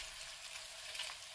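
Cabbage, bacon and garlic frying in a pan while being gently tossed, a faint, steady close-up sizzle with a soft stirring rustle and no voices.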